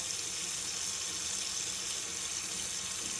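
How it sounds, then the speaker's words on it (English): Cold tap water runs steadily over blanched broccoli in a kitchen sink, a constant hissing rush with no voices over it. "now I'm just shocking it with some cold water."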